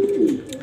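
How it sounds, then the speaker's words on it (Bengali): A light-coloured grizzle pigeon gives one short, low coo close by in a loft, clear and alone. "আজকের গ্রিজেল কবুতরগুলো একটু অন্যরকম।"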